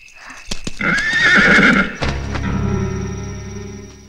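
A horse neighs loudly and close for over a second, then hooves clip-clop steadily on hard ground as the animal moves off.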